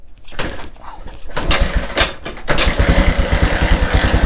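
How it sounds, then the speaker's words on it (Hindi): A motorcycle engine is cranked and catches, with mechanical clatter and sputtering that settle into a loud, close, steady idle. "देखो बाइक स्टार्ट हो गया,"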